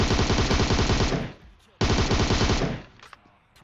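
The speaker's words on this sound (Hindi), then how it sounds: "अब गोलियां इधर तोड़ फोड़ के चल रही है" Loud, sustained automatic gunfire from PUBG Mobile, two long rapid bursts separated by a brief pause, then fading into a few scattered distant shots.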